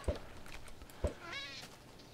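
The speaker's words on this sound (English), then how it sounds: "Oh! I caught my cat." Two short meows from a Minecraft ocelot-type cat sound about a second apart, close and fairly quiet, followed by a brief faint warbling game sound.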